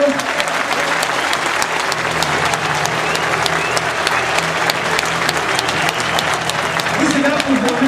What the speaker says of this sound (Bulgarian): Аплодисменти за Антон Генов